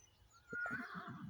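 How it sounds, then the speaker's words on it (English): A horse whinnies once beyond a tree line, a rising, wavering neigh that is fairly distant and faint against a quiet outdoor background. "I got a horse just through the tree line here that's heard me here now."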